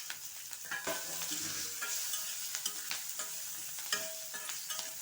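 Chopped curry leaves and green chillies fry in hot oil with mustard seeds and asafoetida, giving a steady close crackling sizzle with frequent spatters and the clink of stirring, and no voices.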